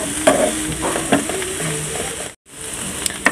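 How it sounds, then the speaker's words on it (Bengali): Shredded cabbage and beaten egg stir-fry in a pan without added water, a close, lively sizzle broken by scraping stirs and light clicks, with one brief silent gap partway through. "এখন আমি এটাকে ভাজা ভাজা করে তারপর নামিয়ে ফেলবো।"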